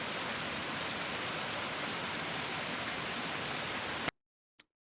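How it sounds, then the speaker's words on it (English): Steady, even rainfall recorded for ambient listening, a dense broadband hiss that stays constant and fairly loud before cutting to silence, followed by one brief isolated tick. "Sounds like typical rain."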